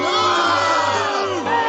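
A large crowd booing J.D. Vance, a dense sustained roar of many voices, loud and close, with sliding drawn-out vocal tones and only a brief dip midway.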